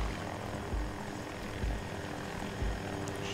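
Little Bird helicopter in the video game Battlefield 2042, a steady rotor and engine drone with faint periodic low thumps, continuous over the whole stretch with no talking.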